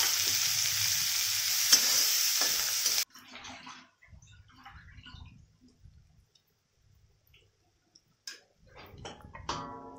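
Two large chopped onions hit hot oil in a pan for a soybean curry, a loud broad sizzle for about three seconds that then drops to faint crackles and scattered utensil clinks and stirring taps.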